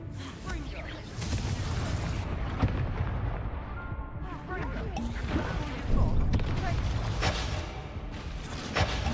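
Confringo blasting-spell explosions in Hogwarts Legacy ring out as booming, crackling bursts amid continuous dense game combat noise, with several impacts spread through the stretch.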